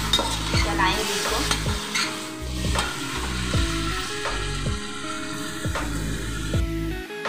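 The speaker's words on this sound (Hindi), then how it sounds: "तो अब हम इसमें चिकन डालेंगे। चिकन को अच्छे से मिक्स करेंगे।" Chicken pieces and onions fry in a hot pan for a chicken pulao, with steady loud sizzling and repeated scraping stirs of a spoon against the metal, no voices.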